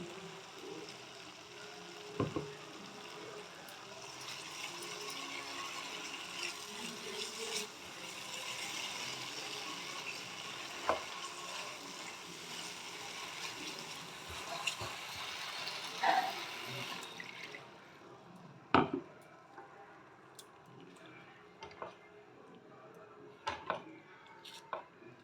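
Water goes into spiced chana dal frying in oil, a broad hissing sizzle that holds steady for a long stretch, then cuts away to quiet kitchen clinks and knocks.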